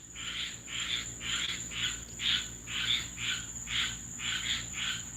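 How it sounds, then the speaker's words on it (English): A tree frog near a backyard pool gives a long run of evenly spaced buzzing call pulses, about nine or ten in a steady rhythm, close and clear over a constant high whine and a low hum. "It's actually, believe it or not, a tree frog."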